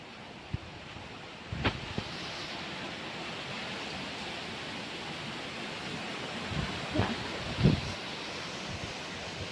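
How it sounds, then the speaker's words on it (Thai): Wind rushes steadily outdoors as rain begins to fall, a broad hissing wash with a few soft gusts and knocks, fairly faint and continuous with no talk over it. "ฝนตกแล้วจ้ะฝนเริ่มลงเม็ดแล้ว"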